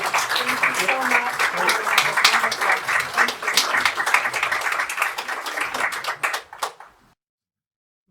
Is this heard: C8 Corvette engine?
no